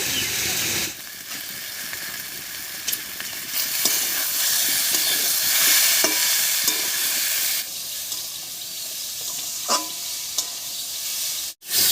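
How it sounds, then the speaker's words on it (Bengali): Salted spice masala stirred in a pan for a boreli fish curry with cauliflower and potato, a steady sizzling hiss with scraping spoon strokes running throughout, briefly dipping near the end. "লবণ দিয়েও বেশ কিছুক্ষণ নাড়িয়ে নিয়েছি"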